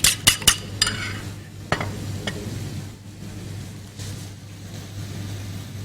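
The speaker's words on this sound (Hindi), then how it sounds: "अंडे को फेंट के आप साइड में रख लें" Eggs being beaten in a bowl for an iftar recipe, a few quick clinking strokes at first, then softer stirring and scraping over a steady low background hum.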